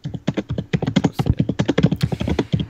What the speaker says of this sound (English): And Rapid typing over there.